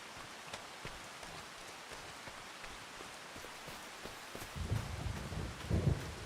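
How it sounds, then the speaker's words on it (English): Steady rain falls in the Farming Simulator 25 video game, a continuous hiss with some heavier low rumbling toward the end and no voices. "I thought we went to bed with it raining. Raining again."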